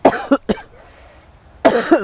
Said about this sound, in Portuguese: vai começar a tossir